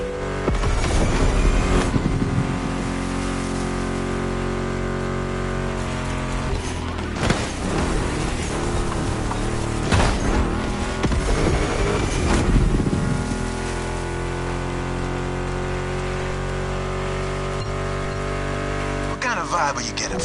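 A Ford Mustang GT muscle car engine in the racing game Motorfest drones steadily with sustained tonal roar, rising and dipping as it shifts, blended with music riffs over about twenty seconds.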